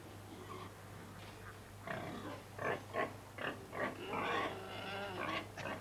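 Pigs at a pig research station grunt and snort in a run of short, rough bursts that grow busier partway through, fairly close but quiet over a low steady hum.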